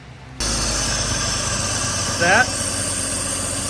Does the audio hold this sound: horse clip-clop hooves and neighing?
no